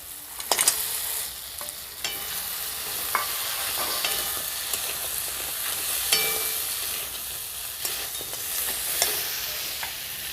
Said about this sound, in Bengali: এবার ভেজে রাখা কাঁকড়াটা আমি মশলার মধ্যে দিয়ে দেবো